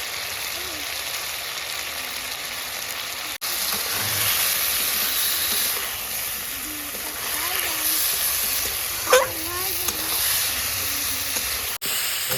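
Potato and papaya pieces seasoned with salt and turmeric sautéing in a pan for a fish curry, giving a steady close sizzle and hiss throughout, with a brief stir clatter near the end.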